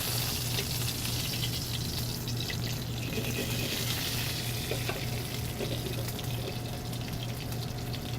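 Sesame-crusted ahi tuna sears in a hot pan, giving a steady, close sizzle and crackle with a low hum underneath, continuous and without talk.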